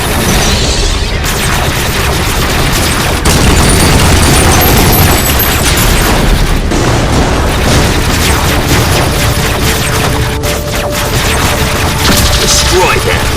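Sustained video-game combat din from a GI Joe game, with dense rapid gunfire and booming explosions as turrets are blasted at a snowy blockade, loud and continuous throughout with no gaps.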